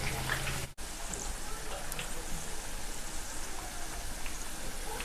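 Potato samosas sizzle in hot oil over moderate heat, a steady dense crackling hiss throughout with one brief gap near the start.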